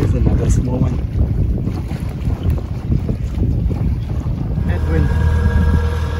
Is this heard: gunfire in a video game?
no